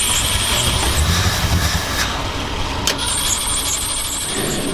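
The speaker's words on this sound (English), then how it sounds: "Testing the fuel pump." A 1979 Ford F250 engine runs steadily during a fuel pump test, a loud continuous rumble with hiss and a brief sharp click partway through, close by and with no speech.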